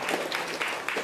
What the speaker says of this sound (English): I just want to give you one more round of applause, Brent.